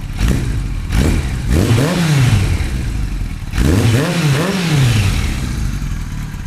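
A 1983 Eddie Lawson Superbike Replica motorcycle engine revs up twice with the throttle, rising and falling in pitch each time over a steady, loud idle, with no talking.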